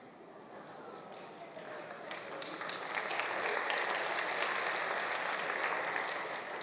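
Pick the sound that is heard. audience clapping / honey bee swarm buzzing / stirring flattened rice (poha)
audience clapping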